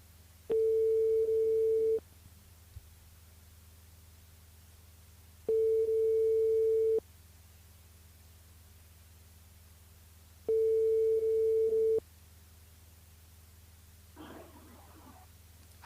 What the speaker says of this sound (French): on appelle David et Jonathan.